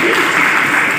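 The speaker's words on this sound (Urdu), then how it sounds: "ایک تالی میرے لیے بھی بجا دیجیے" Seminar audience applauding, a loud, close wash of clapping filling the brief moment, with a faint murmur of voices beneath.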